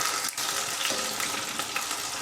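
Paneer cubes fry in a pan until browned, giving a steady, loud sizzle with small crackles and a brief stir or scrape near the start, and no voices.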